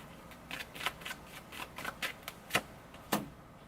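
Tarot cards are handled and shuffled nearby, making quiet, irregular papery flicks and soft snaps with short pauses between them.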